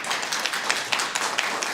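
Brief scattered applause from an audience at a city council business meeting, a short patter of hand claps close by, fading out within two seconds.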